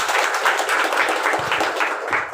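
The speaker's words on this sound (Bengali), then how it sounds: "তার জন্য একটা জোরে করতালি হোক।" An audience at a Vestige business event applauds, producing dense, continuous clapping that stays steady and fairly loud throughout.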